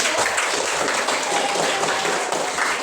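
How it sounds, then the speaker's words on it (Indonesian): A classroom applauds group 3 after its presentation, a steady wash of many hands clapping together, fairly loud and unbroken for a few seconds. "Kita beri aplaus dulu untuk kelompok 3."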